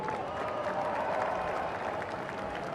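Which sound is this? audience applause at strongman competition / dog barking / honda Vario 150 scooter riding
audience applause at strongman competition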